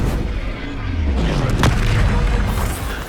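A booming spell explosion from the Hogwarts Legacy video game, a loud blast with a rumbling low tail amid battle noise, while a voice speaks nearby.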